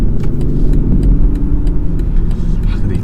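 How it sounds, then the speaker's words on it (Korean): Inside a BMW X7 30d, a turn signal ticks at a steady, quick rhythm over the low rumble of the diesel engine and road noise. "이 깜빡이 소리가 진짜 경박하네요"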